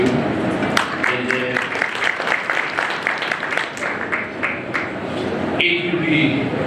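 Audience at a Rand Water excellence award ceremony applauds the team, steady clapping throughout with a murmur of voices mixed in and a brief louder burst near the end.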